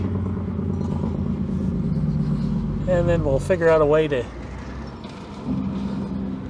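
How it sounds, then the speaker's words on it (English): A truck drives past outside during a dashcam install in a 2018 Audi Q7, a low continuous rumble under a man's nearby speech. "listen to the truck driving by"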